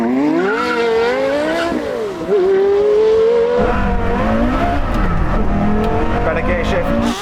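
A V10 sports car, Porsche Carrera GT or Lexus LFA, screaming loud under hard acceleration in a drag race, its engine note rising and dropping through several gear shifts, heard alone without talk.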